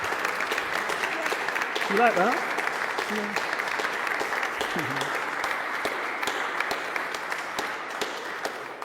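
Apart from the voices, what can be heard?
audience clapping after a book reading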